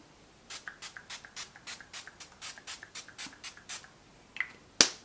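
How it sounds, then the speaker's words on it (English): A quick, even run of about a dozen short, soft spritzes from an Essence makeup setting spray bottle, then a couple of sharper clicks. It is quiet and close. "Let's do one more spray of this spray."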